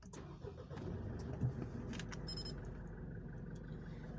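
A Mitsubishi Pajero Sport automatic with about 10,476 km on it cranks and starts, the engine catching after a brief starter whir and settling into a steady low idle, heard close and alone.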